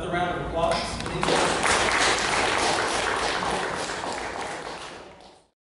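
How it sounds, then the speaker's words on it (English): An audience at a film festival bursts into applause after a brief voice, a full clapping wash that builds and then tapers off into silence. "Another round of applause"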